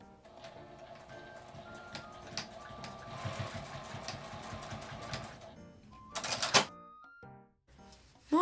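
A sewing machine stitches a seam about one centimetre from the edge of fabric scraps for a small zippered box pouch. It runs as a quiet, steady, rapid patter, then ends with a sharper, brighter burst of stitching.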